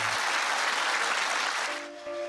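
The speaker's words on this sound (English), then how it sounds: "Everybody's clapping," An audience breaks into sustained, even applause that fills most of the moment, then thins out near the end as a few soft tones come in.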